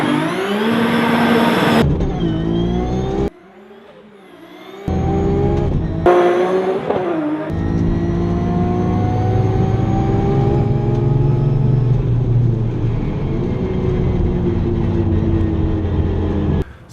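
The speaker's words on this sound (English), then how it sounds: "it's Formula 3 derived, Formula Renault UK car" A Formula Renault UK race car, Formula 3 derived, driving on the Brighton sea front: a loud, close, high-revving engine climbs through gears with sharp breaks between shifts, then holds a steady sustained drone.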